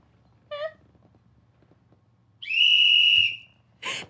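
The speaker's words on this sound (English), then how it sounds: "Sarah's got her whistle" A whistle is blown twice in a light setting: first a short chirp, then a long, loud, steady blast lasting about a second, followed by a brief noisy burst.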